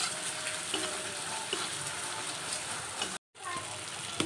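Ginger paste and green chilies hit hot oil in a pan with a dense, crackling sizzle that runs steadily, broken by a brief gap of silence near the end before resuming.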